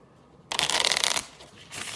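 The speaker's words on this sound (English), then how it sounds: "Just doing some quick shuffling here." A deck of cards for a D-Day Omaha Beach board game is riffle-shuffled up close, a dense crackling burst of about three quarters of a second, then a softer rustle and a second shorter riffle.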